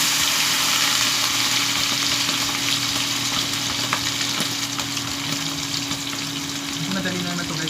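Eggplant omelette (tortang talong) frying in oil in a pan, a loud, continuous sizzle steady throughout with a low background hum.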